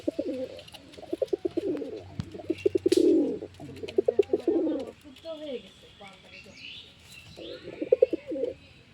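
Pet pigeons coo close by in repeated throaty bursts, with soft chirps and clicks between them, while a person talks intermittently over the calls.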